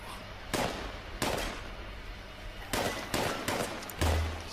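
Legacy weapon firing in Fallout 76, about seven sharp separate shots at irregular intervals, loud and close, with no talk over them.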